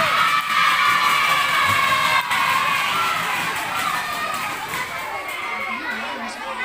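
Primary school pupils at a quiz competition cheering and shouting after a correct answer, a dense crowd of young voices that slowly fades.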